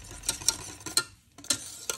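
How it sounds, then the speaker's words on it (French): A hand whisk stirs lemon custard (crème anglaise au citron) in a saucepan just off the heat, making a quick, rhythmic run of light scraping clicks against the pan, close and moderately quiet, with no talking. "vous continuez à délayer avec votre fouet manuel pendant une petite vingtaine de secondes"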